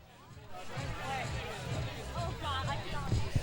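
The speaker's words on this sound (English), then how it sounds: "Just listen to the crowd." Crowd noise at a summer collegiate baseball game at Cardines Field in Newport, Rhode Island: a lively murmur of many voices and cheering mixes with nearby talking, swelling slightly toward the end.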